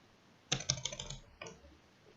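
Computer keyboard keys tapped as a folder name is typed in Windows, a quick burst of soft clicks followed by a shorter second run, close and quiet in an otherwise still room.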